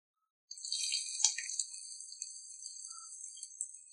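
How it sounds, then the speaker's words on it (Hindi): Chopped onions dropped into four tablespoons of hot oil in a kadhai set up a bright, steady sizzle that starts abruptly and holds without letup. "अब इसमें सबसे पहले हम प्याज डालेंगे।"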